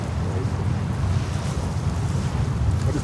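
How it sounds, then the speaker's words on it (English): Strong, steady wind buffets the microphone outdoors at a plane-spotting spot by JFK airport in New York, a loud continuous low rumble with no break across the clip. "but it's pretty windy today"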